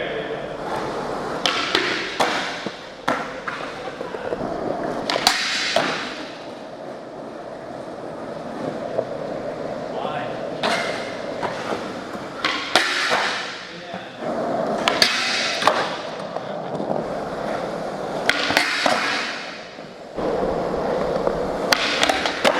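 Skateboard wheels and trucks rolling and grinding on a round rail outdoors, repeated rough scraping runs with clattering impacts, wind noise and voices talking around them.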